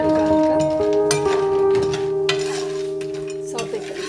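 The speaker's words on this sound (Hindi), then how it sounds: "सौते कर लेंगे।" Cashews and almonds sauté in a pan with a soft sizzle while a spoon scrapes and clinks against the metal in irregular strokes, close and fairly quiet.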